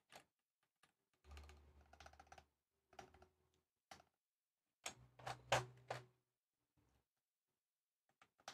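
Keys clacking on a custom D65 mechanical keyboard with 6.25u spacebar: sparse, crisp taps and short bursts of typing, close and quiet in an otherwise silent room.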